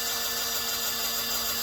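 A power drill bores a hole in wood, giving a steady continuous whine that holds even and fairly loud for the whole stretch, with no voices over it.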